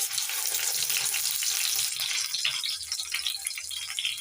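Flour dough balls drop into hot white oil in a frying pan, setting off a loud, steady sizzle with bubbling crackle that fills the whole stretch.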